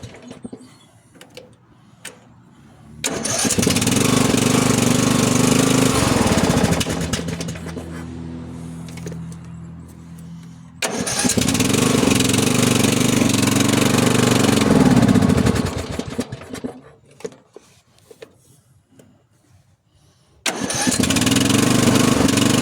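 A small engine that has been bogging down and dying under throttle is cranked and started twice, running loudly for several seconds each time with revving, then dropping back and cutting out; a third start begins at the end.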